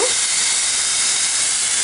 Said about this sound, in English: the pressure cooker has been steaming like this on medium heat for 30 minutes